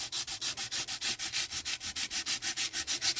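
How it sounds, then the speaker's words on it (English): Rhythmic sanding strokes buff a faux metal embossed card, about twenty quick even rubs in steady succession, close and fairly quiet with no talking. "sand until you start to see the white come through"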